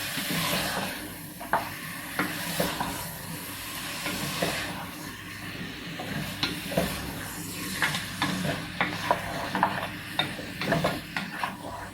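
Fatty beef brisket for kabsa sears in a pot, soft sizzling and hissing beneath repeated scraping and knocking of a spoon that grows busier toward the end, no one talking.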